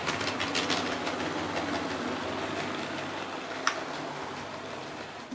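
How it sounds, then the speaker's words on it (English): A model train runs on a busy London Transport model railway layout, a steady rolling rumble with faint clicking wheel noise and one sharp tick partway through, moderately close and without any talk. "there's always a train somewhere within a few seconds running on the layout"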